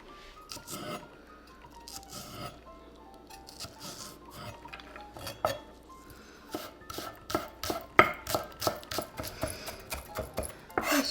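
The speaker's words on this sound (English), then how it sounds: "onions, small pieces, so that no one can notice them" A knife chops onions into small pieces on a cutting board, starting with sparse, irregular cuts and building into a quicker, louder run of close, crisp knocks.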